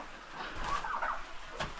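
Chickens on a farm at bedtime give a faint, short clucking call, quiet and somewhat distant against soft background noise.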